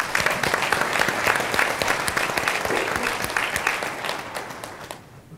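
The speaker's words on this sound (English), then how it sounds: "Give them a big round of applause" A conference audience at a financial services panel breaks into a big round of applause, loud and continuous with sharp individual claps, then fading out over the final half second.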